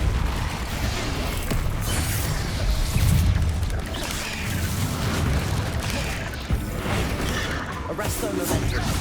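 A Depulso force spell goes off in Hogwarts Legacy amid combat, heard as loud booming bursts and crashing impacts in a busy, dense mix.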